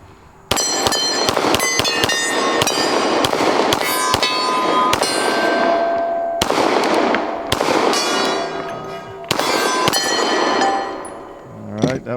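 Rapid bursts of loud gunshots from a Glock 10mm pistol, fired in quick strings with short pauses between volleys, each crack sharp and close with ringing decay.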